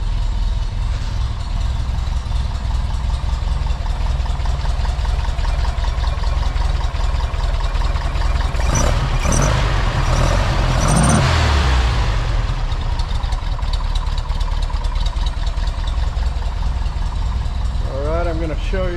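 A 1961 Porsche 356 notchback idles steadily with an even, burbling mechanical rumble, close by and continuous. A voice speaks briefly over it.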